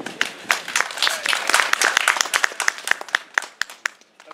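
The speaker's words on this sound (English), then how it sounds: "Dat was een heel spontaan applaus." A small audience applauds a stage performer, scattered sharp claps swelling into brief applause and then thinning out to a few isolated claps as it fades.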